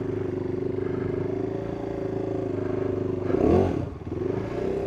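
KTM 390 Duke single-cylinder motorcycle riding on a slippery road, a steady engine drone throughout with a brief louder surge and scrape-like burst partway through, no talking.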